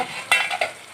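Masala and pre-fried potato pieces being stirred in an oily pan, two quick scraping stirs over a soft background sizzle, close and brief.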